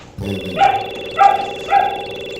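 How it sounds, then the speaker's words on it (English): A pet dog barks three times in an even rhythm, sharp and close, over a steady tonal hum from a computer game playing in the background. "one of my dogs, the one you're hearing right now, he barks all the time"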